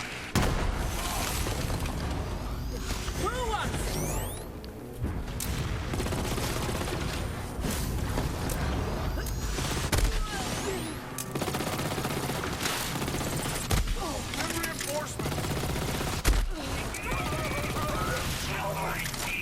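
Rapid weapon fire and booming impacts from a Borderlands 3 shootout as Amara targets enemies, dense and continuous with music and game effects layered throughout, loud and busy for the whole stretch.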